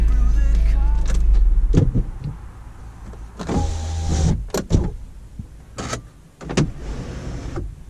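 A Subaru's electric power windows run up and shut in a few separate whirring motor pulls, close and loud, each ending in a firm thump, with a heavy rumble at the start and no talking.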